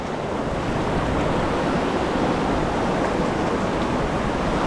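Water rushes steadily along a stream in Iceland over volcanic rock, a loud, continuous wash of noise that stays close and even throughout, with no voices.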